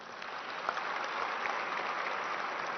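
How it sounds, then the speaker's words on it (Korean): A ceremony audience at the Korea International Trade Association's 47th Trade Day event claps in a dense, steady round of applause that stays even throughout, with no talking over it. "여러분 진심을 다해서 좀 박수 좀 보내주세요."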